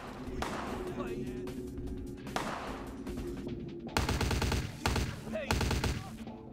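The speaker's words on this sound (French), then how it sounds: "Il tire dans le mur quoi." Gunfire from a character shooting into a wall in Vampire: The Masquerade – Bloodlines, with rapid automatic bursts rattling in clusters under steady game background noise and some talking.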